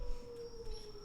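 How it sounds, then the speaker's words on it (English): A wolf howling far off as a tabletop game sound effect, a faint, thin sustained wail held steady and alone over quiet background noise. "You hear a wolf call in the distance."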